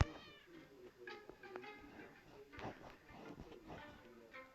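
A cat meows several times in a home kitchen, the cries moderately close, with people talking quietly around it.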